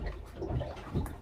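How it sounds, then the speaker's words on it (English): Water sloshes and splashes inside the hull of a 43-foot Tiara boat with Volvo Penta engines, a soft, close, irregular watery wash with no voices. "You hear all that water splashing in the hull."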